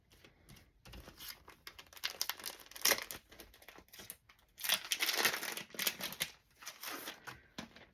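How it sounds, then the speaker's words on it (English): Paper scraps being crumpled and crinkled by hand while making ephemera for butterfly journals, in close, irregular bursts of rustling with brief pauses between. "Sorry about the crinkling in the ears."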